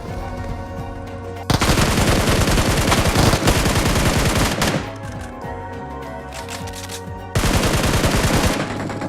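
Loud gunfire in the mobile shooter BGMI as an enemy player is killed: rapid automatic bursts come in two long stretches with a brief lull between them. There is no voice.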